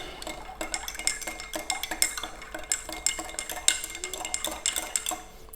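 A spoon stirring salt into water in a glass or metal vessel, bright repeated clinks and scrapes in a quick uneven rhythm, close up with no voices.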